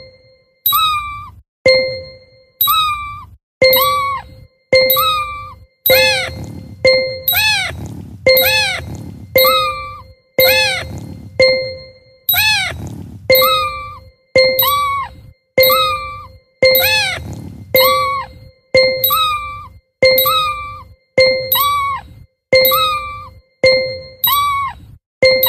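Bright bell clangs ring repeatedly in a steady rhythm in a children's kitten pet-care game, a bell swinging past a kitten, each strike decaying quickly while meows and soft cartoon sounds mix in between.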